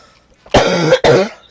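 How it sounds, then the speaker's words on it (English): Two harsh coughs in quick succession, close and loud, with a short gap between them and no speech. "Excuse me for coughing in your ear."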